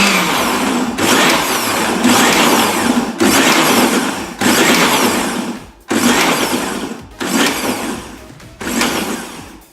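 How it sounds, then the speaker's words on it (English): A kitchen blender pulses okra for okra soup in repeated loud bursts of a few seconds each, whirring then cutting off briefly between runs, close and alone with no talk. "Notice I'm trying to stop in between blending because I do not want it all smooth or too pureed"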